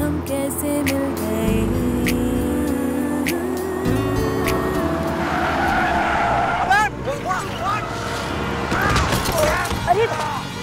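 A motorbike skids with screeching tires while swerving around a pothole on a road, mixed with music and voices.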